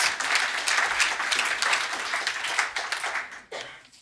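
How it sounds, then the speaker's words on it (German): Church audience applauding in a free church congregation during a Christmas carol service, a dense, steady round of clapping lasting throughout and tapering slightly at the end. "Bitte komm doch nach vorne und ähm, ja, auch ein Applaus."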